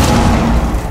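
A C4 charge detonates in Rainbow Six Siege on the Bank map, a loud, deep, rumbling boom that fills the moment up close and starts to fade by the end.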